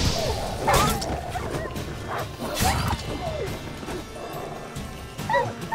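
Dogs in The Witcher 3 bark, yip and whimper in bursts during a fight, loud and close, with crashing hits mixed between the barks.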